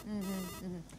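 Telephone ringtone playing a short electronic melodic tone, clear and close, one ring phrase sounding alone before a brief pause.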